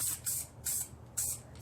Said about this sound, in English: Spray, spray, spray.